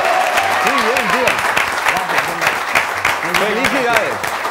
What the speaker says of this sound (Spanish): Yo creo que el aplauso ha sido muy cortito para este hombre lo que ha hecho aquí.